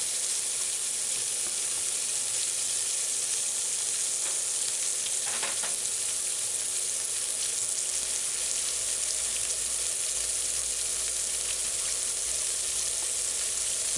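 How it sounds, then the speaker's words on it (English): Diced onion, scallion and ginger sautéing in hot coconut oil, a dense, constant sizzle with a faint scrape of stirring partway through. "I want the onions and the scallion to saute properly"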